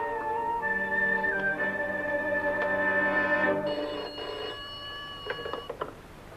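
A telephone rings after a call is placed, a warbling electronic ring that repeats several times at moderate volume, with a few clicks and knocks near the end and no talk.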